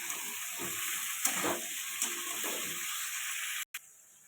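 Fish curry with ridge gourd and potato being stirred in a pan, a soft continuous sizzle with a few scraping strokes of a spoon, fairly quiet, cutting off abruptly near the end.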